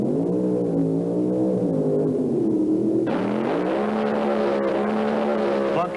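A 1,750-horsepower Hemi-powered Plymouth Satellite drag car racing against a Gremlin at the 1975 IHRA Pro Am Nationals in Rockingham, North Carolina: loud, sustained engine roar throughout, with a sharp rise in pitch and intensity around the midpoint.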